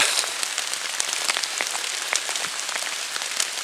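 Steady rain pattering densely on forest leaves and surfaces all around, with a constant hiss and occasional sharper drops.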